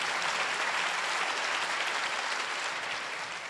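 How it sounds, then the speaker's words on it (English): A crowd at a George W. Bush speaking event gives a steady wash of applause, even and continuous, heard from some distance without any voices over it. "A little smattering of applause out there for old Matty"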